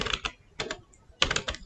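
Rapid clicking keystrokes on a computer keyboard come in three short bursts separated by brief pauses, close and fairly crisp, with no voice.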